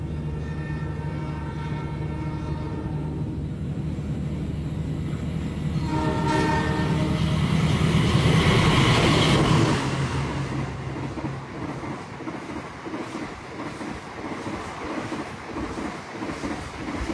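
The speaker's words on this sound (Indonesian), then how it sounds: "barusan kereta api Argo Bromo Anggrek melintas" Argo Bromo Anggrek express train rushing past near Pemalang station, a loud horn blast swelling into a heavy roaring whoosh of passing carriages, then fading into rhythmic rattling wheel clatter.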